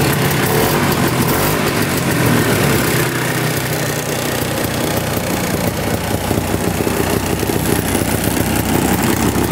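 A 1960s snowmobile's small engine idling steadily up close, a loud continuous rattling drone with no talking.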